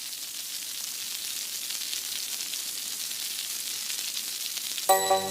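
Malabar spinach and taro frying in a pan in a cartoon kitchen, a steady bright sizzle heard close and alone, cut off at the end by a brief tonal burst.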